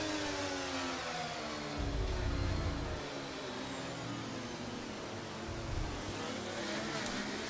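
Race cars in a British GP racing video game accelerate hard as the safety car pits, a loud continuous engine roar with rising revs and deep low surges, no talk over it.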